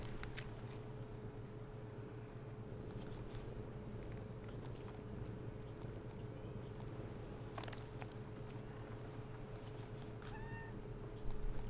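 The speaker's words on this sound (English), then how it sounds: "Just hear the cat purring." Inside the pirate game Sea of Thieves, a cat purrs as a low, steady rumble under quiet ambience, and a short pitched meow breaks through near the end amid faint footsteps.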